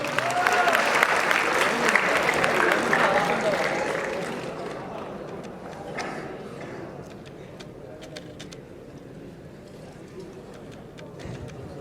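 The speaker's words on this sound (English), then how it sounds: "Please welcome him, give a huge round of applause." Audience at a school farewell event applauds to welcome a student speaker, a dense burst of clapping that gradually thins and fades to scattered claps over several seconds.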